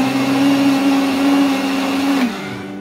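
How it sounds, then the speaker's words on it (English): A blender blitzes a tin of chopped tomatoes for a vegan bolognese, whirring loudly and steadily for about two seconds before the motor cuts off and winds down. "I put them in the blender just to get rid of all the lumps"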